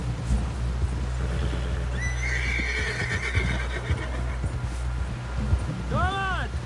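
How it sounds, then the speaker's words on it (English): Horse whinnies and hooves clip-clop in a PS4 western video game, a neigh rising mid-clip and another near the end over steady galloping beneath game ambience and music. "Someone help John down off this horse."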